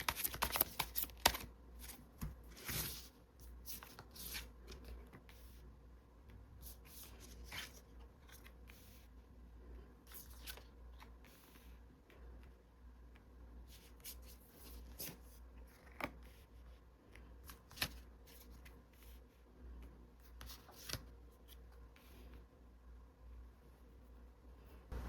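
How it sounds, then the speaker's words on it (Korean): Tarot cards are shuffled and drawn by hand, giving a run of soft papery riffles, slaps and light taps that come in irregular bursts over a quiet room, with no one talking. "두 분의 관계 흐름에 대해서 카드를 다시 뽑아보도록 하겠습니다"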